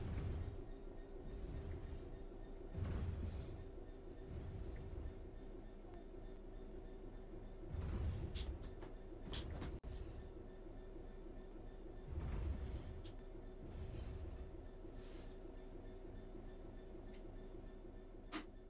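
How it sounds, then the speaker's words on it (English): Low rumbling of a moving train in the video game Train Sim World 3, with rhythmic clacking swells and occasional sharp metallic clicks, fairly quiet and continuous. "we got the train moving"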